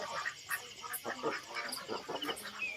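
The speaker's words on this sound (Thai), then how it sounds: "แล้วก็มีเป็ดนะครับ" Ducks on a village farm at night quack in a scatter of short calls, moderately near against a soft background hiss.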